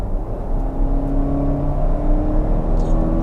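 Volvo XC60 R-Design engine accelerating in its dynamic high-performance mode, a steady, close droning rumble with a slight rising note, continuous through the whole stretch with no voices.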